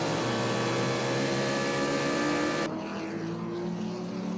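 A Trans Am race car at Sebring screams along the straight at top speed, a loud sustained high-revving engine note that cuts off abruptly partway through, leaving a quieter steady drone.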